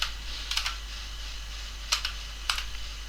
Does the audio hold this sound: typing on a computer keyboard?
yes